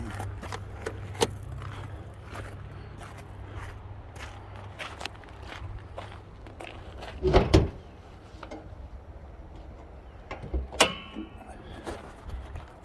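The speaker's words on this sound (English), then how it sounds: "Let me pop the hood open" A car hood on a four-cylinder vehicle with a cold engine is released in a repair shop: quiet shuffling and light clicks, then a loud metallic clunk of the latch and hood, followed by a second fainter clatter.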